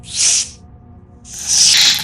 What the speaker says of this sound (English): The snake gave a hissing shriek